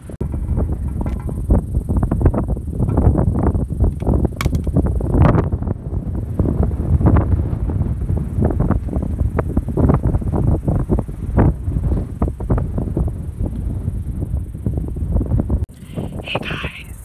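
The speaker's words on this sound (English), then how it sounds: "It's so windy." Strong wind buffets a microphone outdoors at sunset in Tucson, Arizona, a steady loud roar and rumble with gusty surges lasting throughout, with no voices.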